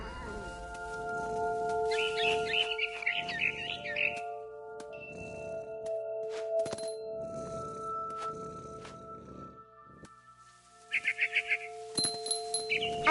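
A barn swallow in What Remains of Edith Finch gives two bursts of rapid high chirping, one early and one at the end, over sustained background music and soft ambient noise.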